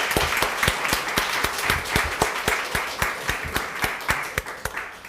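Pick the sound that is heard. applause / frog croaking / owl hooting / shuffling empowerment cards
applause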